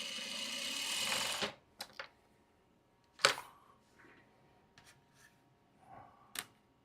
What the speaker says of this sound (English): So I can just go ahead and sew this one.